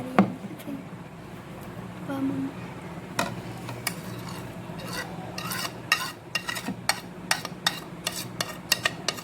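Raw kebab mince is stirred by hand with egg, gram flour, green chilli, mint and coriander, giving wet squelching and scraping strokes that turn into rhythmic spoon-on-bowl clicks toward the end.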